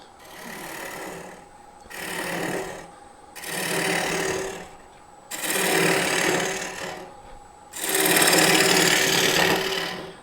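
Bowl gouge making push cuts on a mulberry wood bowl spinning on a lathe, five separate scraping, rasping bursts that grow longer and louder, divided by short quiet gaps.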